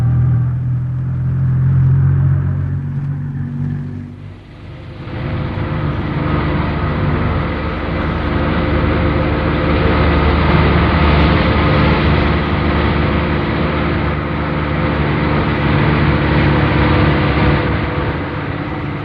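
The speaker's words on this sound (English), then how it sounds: "A convoy of trailers loaded with penstocks now leaves the Ong Ban yard" Convoy of trailer trucks loaded with penstocks pulling out of the Ong Ban yard on a hydroelectric project: subdued rumble for the first few seconds, then a loud, steady engine drone that holds to the end.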